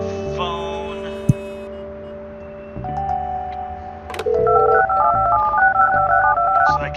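Telephone dialing tones in the Project Highrise building-management game, a run of electronic beeps and steady tones with a sharp click, ending in a quick sequence of alternating dial pitches.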